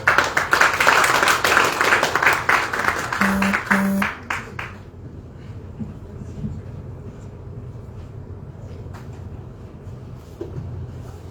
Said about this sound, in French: Tous vos applaudissements, s'il vous plaît.